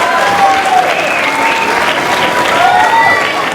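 A wrestling crowd at a Street Gang Hooligans versus Untouchables match applauds and cheers a skateboard drop kick, a steady wash of clapping with scattered shouts, loud and continuous throughout.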